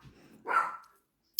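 A small silver Morkie Poo (Maltese, Poodle and Yorkie mix) gives one soft, whiny bark or yip, set off by fireworks, followed by a brief sharp click; faint and indoors, with quiet around it.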